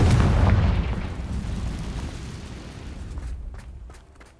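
A Confringo fire spell explodes in Hogwarts Legacy: one deep, loud booming blast that rumbles and slowly fades over a few seconds, with no voices.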